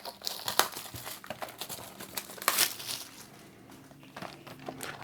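Foil wrappers on Disney Lorcana Wilds Unknown booster packs crinkle and tear close by in quick irregular bursts, with sharp rips between softer rustling.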